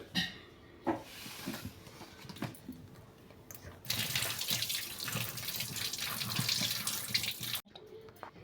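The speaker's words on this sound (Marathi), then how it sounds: "हे पूर्णपणे टमाटर छान स्वच्छ पाण्याने धुवून घ्यायचे" Tomatoes are washed under running water, with a few faint knocks and handling sounds first, then a tap gushes steadily for several seconds before cutting off abruptly.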